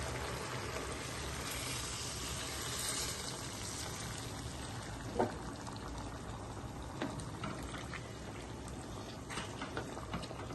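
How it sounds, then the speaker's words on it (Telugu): A glass of water pours steadily into a pot of chicken curry with chana dal, a continuous splashing pour under a low, even sizzle, with a couple of small clinks partway through. "ఒక గ్లాసు వాటర్ పోసుకుందాం"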